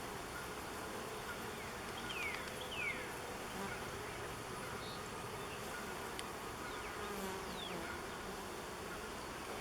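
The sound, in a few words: honeybees buzzing on a hive frame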